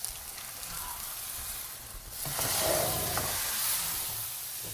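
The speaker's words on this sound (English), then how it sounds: "now it's so bubbly and frying beautifully" Onions, garlic and ginger fry in a pot for red lentil soup, a soft steady sizzle that swells louder and brighter midway as the lid comes off, a continuous close hiss with no talking.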